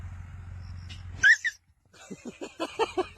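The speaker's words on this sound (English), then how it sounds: "You whisper bark. You go woof." A dog makes quiet whisper barks and whimpers, a high yelp followed by a run of soft, rapid huffing woofs, close by with little else around.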